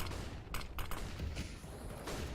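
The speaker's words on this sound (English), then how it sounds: "A lot of flashes thrown out here. You can hear them like fireworks." Flashbang grenades going off in Counter-Strike during a BIG vs forZe playoff match, several quick faint pops in a rapid cluster like distant fireworks, with no talk over them.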